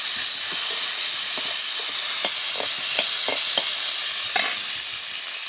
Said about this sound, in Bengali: আলুকে ভেজে নেব লাল করে।